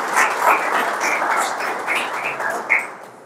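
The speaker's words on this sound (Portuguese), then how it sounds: "Você pode aplaudir o nome do Senhor?" A church congregation applauding together, a steady wash of clapping from many hands that keeps going for a few seconds.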